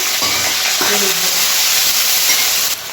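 Cumin paste and a splash of water hitting hot oil in a pan give a loud, steady sizzling hiss that runs close and unbroken, then cuts off abruptly just before the end.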